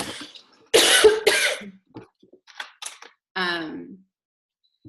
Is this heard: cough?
yes